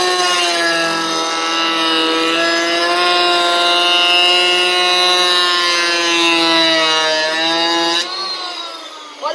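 An electric hand planer runs with its safety lock released, giving a loud, steady, high whine with strong harmonic overtones for about eight seconds, then drops off sharply near the end.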